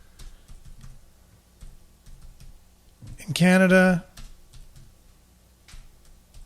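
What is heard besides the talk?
typing on a computer keyboard with one hand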